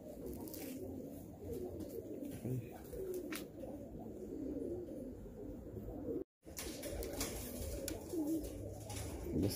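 Several pigeons coo softly and continuously in a busy coop, with murmuring voices and rustling underneath.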